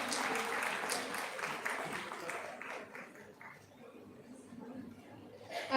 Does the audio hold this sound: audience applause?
yes